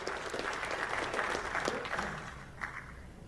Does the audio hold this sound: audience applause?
yes